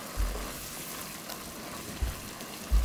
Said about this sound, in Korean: 지금 이제 바글바글 끓고 있죠?